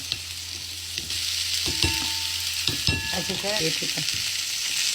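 Poha being stirred into potatoes frying in oil, with a steady sizzle beneath and a few scraping, clattering strokes of a spoon against the pan, fairly quiet and close, with no voices.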